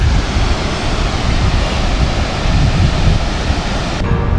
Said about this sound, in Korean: 한국에선 저런 폭포를 본 적이 한 번도 없어 나는